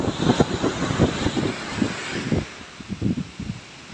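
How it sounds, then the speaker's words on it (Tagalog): Strong wind and heavy rain batter the open surroundings of a town during a fishing trip, a dense, gusty roar with repeated low buffeting bursts across the whole span. "Sobrang lakas ng hangin at ano, ulan."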